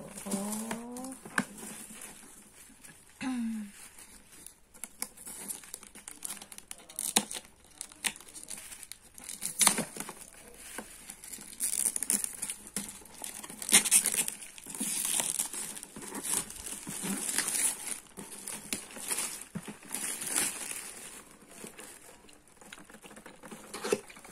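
Packaging of an MZ-602 electric breast pump being unboxed, with irregular crinkling, tearing and patting of plastic and paper close by, continuing throughout without speech.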